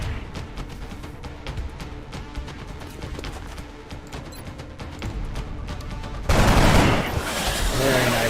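Gunfire from the video game XCOM Enemy Within crackles through a rapid burst of sharp repeated shots, then swells into a louder, denser blast of impacts near the end, with a voice speaking faintly beneath.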